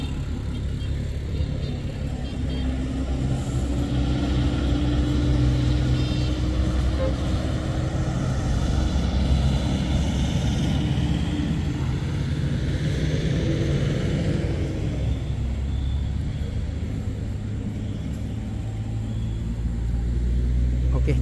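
A car rolling past on a rough, busy road, a steady low engine and tyre rumble that swells and fades over about twenty seconds while someone talks over it.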